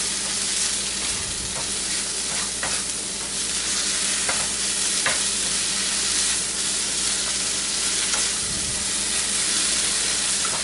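Spinach wilts in a hot frying pan, giving a loud, continuous close sizzle and steamy hiss, broken by occasional stirring clicks and scrapes.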